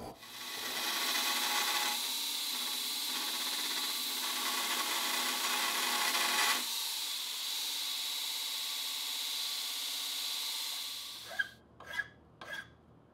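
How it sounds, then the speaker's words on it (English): A hand file rasps steadily over a cast hammer made from melted copper pennies, in long continuous strokes, close and fairly loud, then a pause and a few short scraping strokes at the end. "Sometimes I design something without thinking about how much file work will be involved in cleaning it up"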